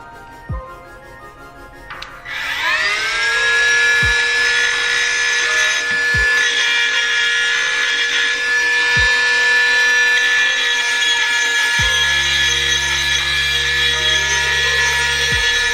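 A rotary power tool grinds steadily while porting a Maxpeedingrods turbo for an RB20/RB25 R32 Skyline, spinning up after a brief pause into a loud, sustained high-pitched whine with occasional scraping contact sounds.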